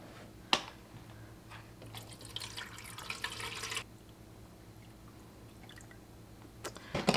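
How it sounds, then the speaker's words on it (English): Distilled water poured into an Aerogarden bowl, a soft trickling stream for a few seconds after a small knock, then quieter dripping and faint handling noises. "Alright, we start with distilled water."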